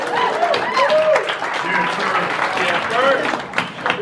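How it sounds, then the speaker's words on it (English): Guests applaud Lindsey at a rehearsal dinner, a steady broadband patter of clapping mixed with cheering voices and chatter throughout, moderately loud and close. "Let's give her a round of applause."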